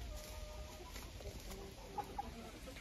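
Laying hens cluck softly in their enclosure, a low continuous farmyard murmur with a couple of brief sharper calls near the end.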